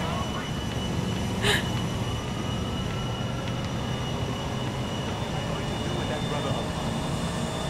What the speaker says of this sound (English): Can I steal that plane?